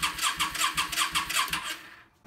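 A Yamaha Star 650 motorcycle engine cranks over steadily on the starter with no fuel in the system, a loud, rhythmic chugging of about ten even pulses that stops abruptly after two seconds, heard alone and close.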